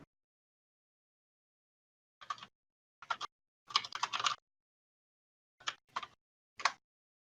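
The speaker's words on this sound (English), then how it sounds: "Just me typing." Quiet computer keyboard typing in short bursts of clicks separated by pauses, close and fairly soft in an otherwise silent room.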